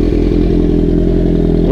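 Kawasaki Z1000 motorcycle fitted with an Arrow single exhaust, running loud and close with a steady, throaty engine rumble throughout the short stretch.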